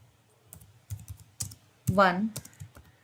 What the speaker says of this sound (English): Now here you have to type LED1